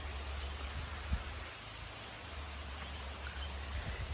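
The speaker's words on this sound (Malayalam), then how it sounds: "ഇതാണ് നമ്മുടെ റിസോർട്ടിൽ നിന്ന് പുറത്തേക്കുള്ള ഒരു നല്ല ബ്ലേഡ് മഴ" Rain falling outside a resort at Vattavada, a steady hissing wash of drops with a low, even background rumble, moderately distant and fairly soft, with no voices.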